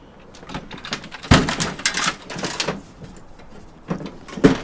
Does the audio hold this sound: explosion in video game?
no